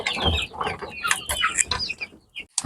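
Free-range poultry cluck and chatter continuously, several birds close by in a busy, overlapping flock, with a few sharper squawks near the end.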